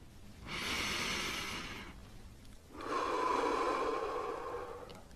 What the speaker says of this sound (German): Sie atmen nochmal tief durch die Nase ein